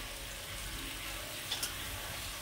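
Raw potatoes set frying in unheated oil in a karai (wok), giving a soft, steady low sizzle with a couple of faint clinks, close and fairly quiet, no voices.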